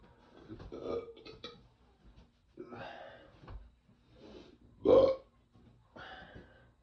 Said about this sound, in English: Pardon the belch.